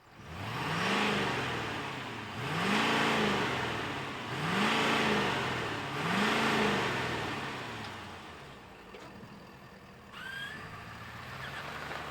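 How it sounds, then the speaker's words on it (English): A 2023 Ford F-250 King Ranch Super Duty pickup engine revs repeatedly, four strong rising-and-falling blips at steady intervals, loud and close, settling into a lower idle afterward with no talk. "let's fire up this King Ranch and hear what it sounds like"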